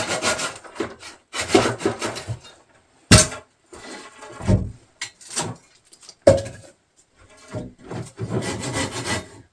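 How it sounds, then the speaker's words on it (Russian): Someone hand-saws firewood in snowy spring taiga, with rasping wooden strokes in irregular bursts separated by pauses and a few sharp knocks, close and fairly loud. "А я тут пилю дрова."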